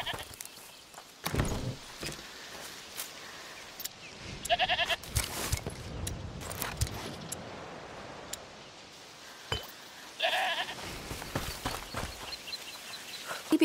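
Goat bleating in A Plague Tale Requiem, a few short bleats heard in two bursts, around five and ten seconds in, over a steady game ambience with scattered clicks and thuds.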